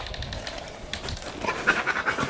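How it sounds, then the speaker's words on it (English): A dog pants inside a small cabin shack at a Death Valley campout, quick rhythmic breaths close by, soft and steady with faint rustling and no talk. "it's already got a dog in it"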